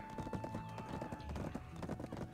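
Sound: horse galloping hooves in Black Desert video game

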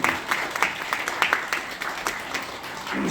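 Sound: wedding guests applauding

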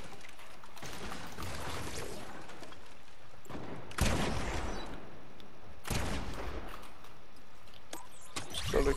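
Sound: shotgun gunfire in the Fortnite video game

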